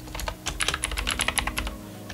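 Fingers type code on a computer keyboard in a rapid, uneven patter of crisp key clicks, close and steady for about two seconds with brief pauses, and no speech.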